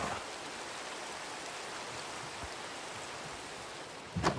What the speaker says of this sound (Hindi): बारिश रुक जा भाई, क्यों इतना कर रही है?